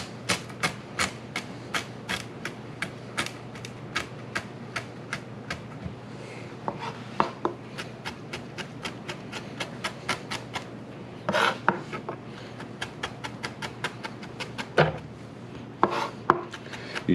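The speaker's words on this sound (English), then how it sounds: "I'm going to put a little chop on the stems here." A kitchen knife chops herb stems on a cutting board, rapid sharp knocks in quick runs with short pauses between them, close and clear with no voices.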